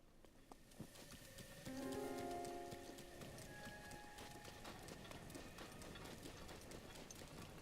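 Rain in the game Zelda: Breath of the Wild makes a steady, soft hiss of falling drops that runs throughout. A brief tonal game chime sounds early on, and the whole scene stays quiet with no talk.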